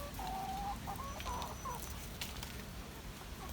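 A hen clucks and murmurs in a few short calls early on, faint over a low rumbling background, then quiets.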